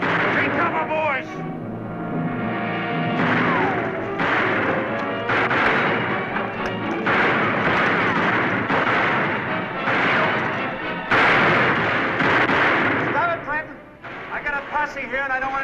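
Rapid gunfire from a western movie shootout, loud and continuous, with repeated shots and booming reports tumbling over one another while voices shout beneath the barrage throughout.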